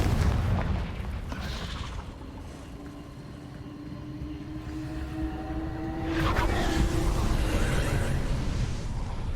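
Confringo fire spell explosions in the video game Hogwarts Legacy, blasting rocks: loud rumbling booms with crackling debris and a sustained tonal hum, a fresh blast swelling near the end.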